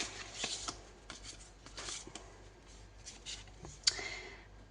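Tarot cards being shuffled and a card drawn, a series of quiet riffling and sliding card sounds in bursts, close and soft, with a sharper snap near the end.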